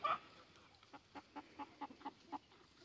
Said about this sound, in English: That is a rooster.